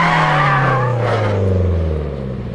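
Tires squealing as a car with a locker differential snaps from understeer into oversteer, a loud close screech over the engine note that slides downward in pitch and fades slightly toward the end.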